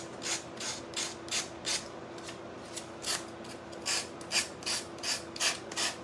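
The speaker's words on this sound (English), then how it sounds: "I call it the gator finger sander, and I'm cleaning it up." A small finger sander works over a Mod Podge wall hanging in short repeated scratchy strokes, a rhythmic rasping close by with a faint steady whine under it.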